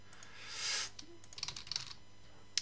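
Quiet computer keyboard typing while entering text in data-mapping software, a short irregular run of soft key clicks after a breathy swell, with one sharper tap at the end.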